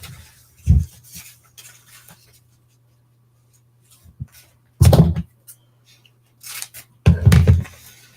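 Scissors snipping paper for a homecoming mum craft, a few separate crisp cuts scattered through near silence, close by and loud, with a low steady hum underneath.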